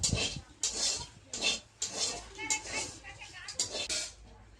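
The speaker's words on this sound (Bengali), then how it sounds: "দেখো আমার খুব ভালো করে নাড়া হয়ে গেছে" A utensil stirs food in a kadai, scraping and clinking against the metal in repeated uneven strokes, close and fairly loud, with a voice speaking between them.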